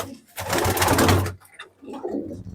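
Kalinka pigeons in a competition breeding loft give a loud, throaty cooing call that swells for about a second, then fades into softer murmuring coos close by.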